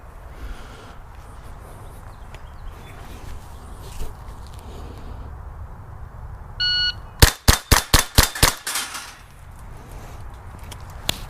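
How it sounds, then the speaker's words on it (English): A Faxon FF-22 10/22-pattern .22 rifle fires CCI standard velocity rounds at a steel plate rack: a rapid string of about eight sharp, loud shots, each followed by a ringing metallic plate hit, with a brief beep beforehand. "we're going to shoot a plate rack with this real quick using CCI standard velocity"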